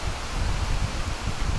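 Strong, gusty wind buffets the microphone outdoors, a steady roaring rush with low rumbling surges throughout and no talk.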